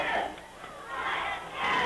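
A crowd roars and chants at a high school football 3A first-round playoff game between Corbin and Knott County Central, a dense swelling cheer of many voices heard from a distance.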